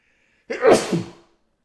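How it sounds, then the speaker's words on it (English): A single loud sneeze from a sick person close to the mic, a sharp burst that trails off quickly, with silence before and after. "I'm going to sneeze here."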